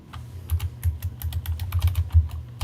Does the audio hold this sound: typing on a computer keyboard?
yes